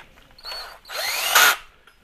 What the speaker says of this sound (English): We get our power tool.